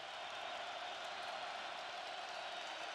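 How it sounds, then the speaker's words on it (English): Crowd noise filling a football stadium during an NDSU Bison versus Missouri State game, a steady distant roar with no breaks, faint and even across the whole stretch. "Crowd making some noise here."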